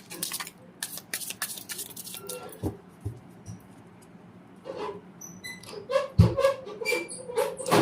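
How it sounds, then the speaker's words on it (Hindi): Tarot cards are shuffled and drawn with quick, crisp riffles and soft slaps in bursts, alternating with short pauses and light handling clicks, close and alone. "थोड़े से कार्ड और निकालते हैं, कंफर्म करते हैं कि क्या हो रहा है।"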